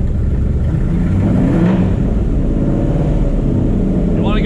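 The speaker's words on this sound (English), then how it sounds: "I don't know why it's idling high." A 1200+ horsepower engine runs steadily at a raised idle, a loud continuous rumble with a whirring edge, close up and unbroken.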